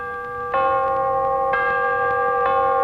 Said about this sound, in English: the three most recognizable notes in American radio, the NBC chimes